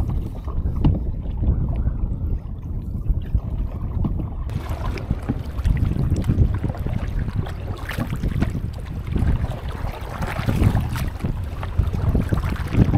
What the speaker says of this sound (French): Il y a du gros vent.